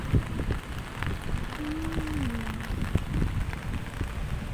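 Rain patters steadily on a surface with scattered louder drips nearby, and a brief faint tonal whine drifts through midway.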